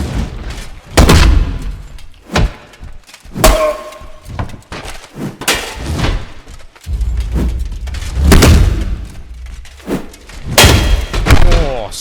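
Heavy thuds and crashes ring out as a skeleton is slammed across the room in combat in the Exanima video game, with scattered impacts through the clip and a person talking over them.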